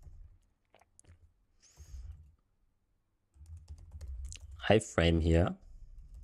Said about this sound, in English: And I'll type some